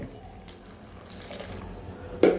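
Water is poured for mixing by hand, a faint soft trickle running continuously, ending in a brief louder splash.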